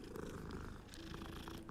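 A cat purrs steadily in the video game Hogwarts Legacy, a close, continuous low rumble that lasts throughout, with faint game ambience beneath.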